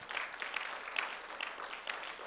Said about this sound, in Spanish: puede darle una ofrenda de aplauso al Señor